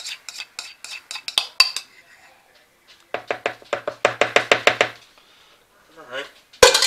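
A spoon scrapes a potato salad mixture out of one bowl into another in a series of quick clicking, scraping strokes, bursts of rapid taps separated by short pauses.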